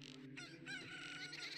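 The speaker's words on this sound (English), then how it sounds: "I heard a chicken" A chicken in the Zelda Ocarina of Time game gives short, clucking squawks, fairly faint and close, over a steady low game hum.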